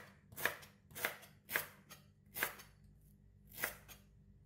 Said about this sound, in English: Next, cut these ingredients into smaller pieces for blending.